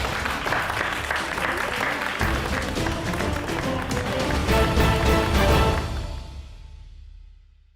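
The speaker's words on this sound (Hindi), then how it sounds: "क्या बात है, ताली हो जानी चाहिए" Children clap together after a speech at a night school inauguration, a full steady burst of applause that swells slightly and then fades away to silence over the last couple of seconds.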